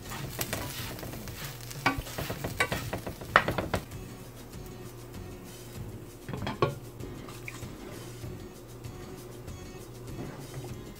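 Tofu cubes fry and brown in a pan for a Vietnamese vegan curry, giving a steady soft sizzle with occasional stirring clatters and utensil taps, loudest early on, then a quieter continuous frying hiss.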